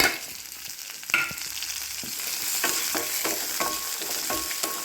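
Continuous frying sizzle in a pan, with scattered crackles and occasional clinks of stirring, no voices.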